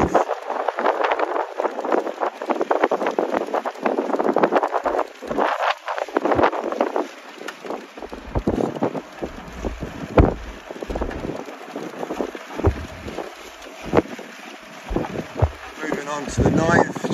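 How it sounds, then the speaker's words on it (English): Gusty wind buffeting the microphone outdoors on a golf course in late January, rough blustery rumbles rising and falling throughout, with someone talking over it. "It is quite windy."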